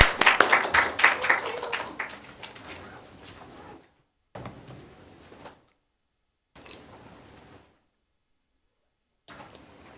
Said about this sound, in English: let's clap our hands to show a warm welcome to Dr.